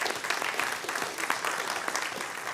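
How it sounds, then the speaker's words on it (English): Steady applause from a congregation at a synagogue annual meeting, a dense wash of many hands clapping continuously at moderate volume for a couple of seconds. "I would like a quick round of applause for those guys"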